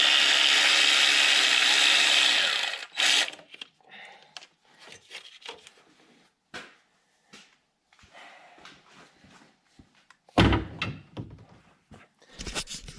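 Sporadic ratcheting clicks and metallic scrapes of a wrench removing the fuel rail support bolt in the engine bay of a 2014 Ford Explorer, following a loud broadband hiss at the start, with short bursts of handling noise between.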